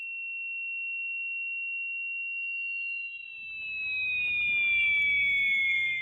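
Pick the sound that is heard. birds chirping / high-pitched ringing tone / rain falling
high-pitched ringing tone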